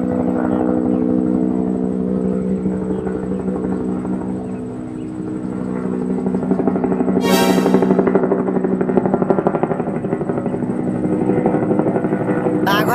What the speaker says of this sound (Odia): ହେଲିକପ୍ଟର ଆସିଗଲା ରେ